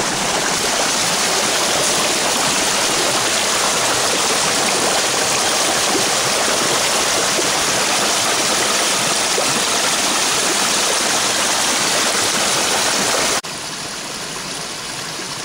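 Waterfall and creek on wooded Georgia land in Elbert County, a steady loud rushing roar of falling water throughout, close by, no voices.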